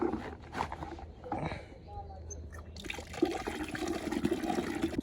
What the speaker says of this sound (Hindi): गाय को पानी की बाल्टियाँ भरते हैं।